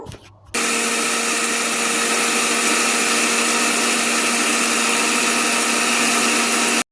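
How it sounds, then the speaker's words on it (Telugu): An electric mixer grinder grinds roasted spice powders with a loud, steady high-pitched whine that starts abruptly after a brief quiet moment and runs without break, then cuts off sharply at the end. "ఇప్పుడు నేను మొత్తం అన్నిటిని కూడా వేయించుకున్న వాటిలన్నిటిని కూడా మిక్సీ పట్టేసుకుంటున్నాను"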